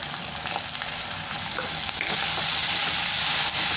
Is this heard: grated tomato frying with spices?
yes